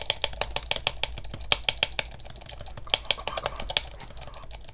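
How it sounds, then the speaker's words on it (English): Rapid, continuous mouse and keyboard clicking while racing to register for classes in a game, a dense, close stream of sharp clicks with no talk. "I'm clicking so rapidly."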